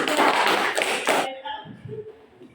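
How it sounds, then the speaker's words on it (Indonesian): A class applauds a student group with a short burst of loud clapping that stops abruptly after about a second, followed by quieter voices. "Tepuk tangan untuk kelompok"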